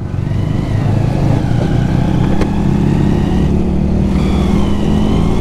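A Honda CD 200 Roadmaster classic motorcycle engine drones steadily while riding, a continuous mid-pitched hum with wind rush, briefly swelling as the throttle shifts, with no voices over it.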